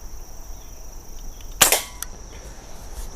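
A single sharp crack of an Umarex NXG multi-pump air rifle firing a BB, close and brief against a quiet background, with a faint ringing tail.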